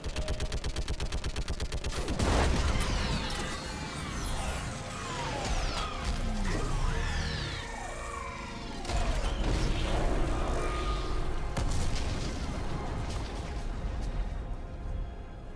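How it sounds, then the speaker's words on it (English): Mass Effect video game battle with an orbital strike and gunfire, dense rapid bursts of shots, mechanical clatter and sweeping whooshes, loud and continuous throughout with no talk. "I need an orbital strike. We're clear. Fire at will."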